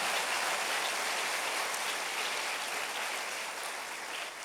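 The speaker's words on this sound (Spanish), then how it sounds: "Dale otro aplauso al Señor." A church congregation applauds at an anniversary service, a dense, steady patter of many hands sustained evenly for several seconds before easing slightly at the end.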